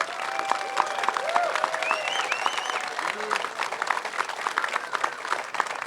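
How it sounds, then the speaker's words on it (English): Warm audience applause for standing Army veterans at a memorial bridge ceremony, a sustained wash of many hands clapping with scattered cheers and whistles rising above it throughout. "ask you to stand up and receive some warm applause"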